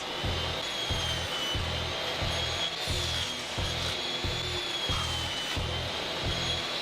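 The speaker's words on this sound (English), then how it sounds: "I'll start out by trimming these down to length on my crosscut sled." A table saw trims beetle kill pine boards to length on a crosscut sled. The steady, whining motor hum runs throughout, with a regular low thumping pulse underneath.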